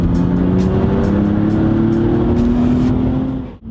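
BMW M2 Competition with an aftermarket intake on a rally stage, its engine droning loud and steady from inside the cabin under load with a rising pitch, then dropping away abruptly at the end, with no talking.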